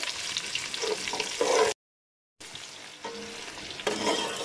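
Two medium onions frying in sautéed spiced masala for an egg pulao, a steady broadband sizzle with stirring scrapes, broken by a short silent gap midway before the frying resumes.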